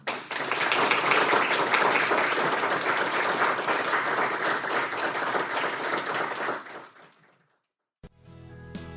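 Enthusiastic audience applause for panelists at a leadership event, a dense, loud burst of clapping lasting about seven seconds before tapering off, followed by a brief silence and faint music.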